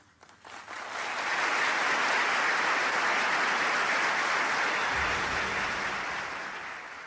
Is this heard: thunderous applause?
yes